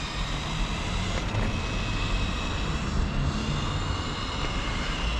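An electric FTX MK2RS radio-controlled Ford Escort rally car without a gyro drives on its first run in cold weather, giving a continuous, steady, high motor whine over broad running noise.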